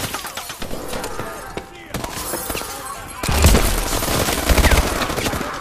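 Gunfire and impacts crackle in a Call of Duty Advanced Warfare firefight, scattered shots early, then a louder, heavier barrage with deep booms, mixed with shouted in-game voices.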